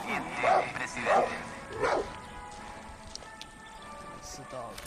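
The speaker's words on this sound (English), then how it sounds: "It's a dog right there." Dog barking in the Far Cry 6 video game, three loud barks in the first two seconds, then quieter game ambience with faint background noise.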